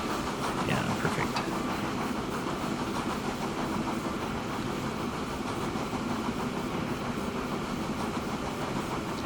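A train rolls past in the railway-building game Transport Fever 2, a steady, dense rumble of engine and rail noise that stays loud and unbroken throughout.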